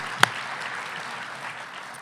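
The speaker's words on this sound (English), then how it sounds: "let's give him one more round of applause for this important honor" Applause at a virtual gala honoring a physician, a broad, steady wash of clapping that holds for two seconds, moderately loud, with one sharp clap standing out near the start.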